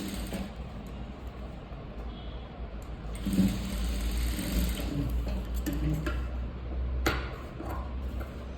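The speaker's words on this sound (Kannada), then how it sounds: "ಸೈಡಲ್ಲಿ ಒಂದು ಸ್ಟಿಚ್ಚನ್ನು ಫಸ್ಟೇ ಹಾಕಿ ಎತ್ತಿಟ್ಕೊಂಬಿಡಿ ಅಂದರೆ ಸ್ಟಿಚ್ ಹಾಕ್ಕೊಂಬಿಡಿ" Sewing machine running a straight stitch along the side seam of a lined blouse, a steady continuous mechanical hum with a brief louder surge midway, close by with no talk.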